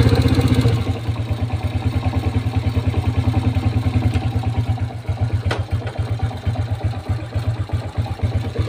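A Suzuki Shogun SP 125 motorcycle engine runs close by with a steady, fast-pulsing idle and a slight clatter, picking up a little as the throttle is worked, alone without talk.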